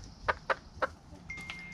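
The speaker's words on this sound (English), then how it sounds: "So this is Mr. Wally Wiggins, an adopted chicken" An adopted rooster on a spring farm gives three short, sharp clucks in quick succession, close by, followed by a softer drawn-out call, with no talk.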